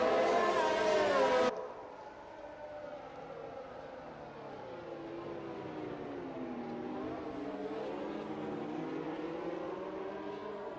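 Race cars in a racing video game circuit at Bahrain in a slow queue behind the safety car, their engines droning and shifting pitch steadily at moderate level after a louder opening burst, with no talk.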